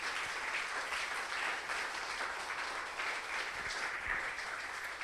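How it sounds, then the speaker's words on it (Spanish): A church congregation claps together in sustained, dense applause that stays steady and fairly loud throughout, with no talking over it. "Dele un fuerte aplauso al Rey si usted lo cree así"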